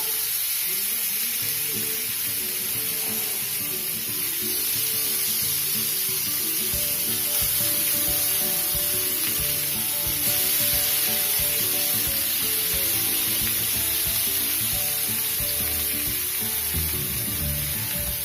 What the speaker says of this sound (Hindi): अब इसमें मछली डालेंगे।